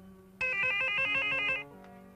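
A broken telephone rings with a loud electronic ringtone of rapid repeated warbling tones lasting about a second, then stops abruptly, leaving a faint tone behind.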